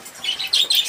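Pet budgerigars eating tulsi leaves give short, sharp squawks and chirps close by, a few quick calls in a brief burst with no talking.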